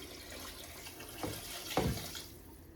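About a gallon of water splashes and pours into a pot under steady running-water noise, with a couple of louder sloshes near the end, moderately quiet.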